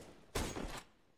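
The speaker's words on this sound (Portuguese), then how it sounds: "Tiro, tiro na B, tiro." A burst of gunfire during a competitive Counter-Strike match, one loud broadband blast of about half a second with rapid follow-up shots, then fading to quiet.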